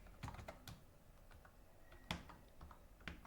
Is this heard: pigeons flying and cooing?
no